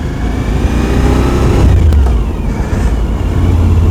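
A Suzuki V-Strom 1050XT Euro 5 motorcycle engine revs up loudly and close by, a rising engine note that peaks and then settles into a steady rumble.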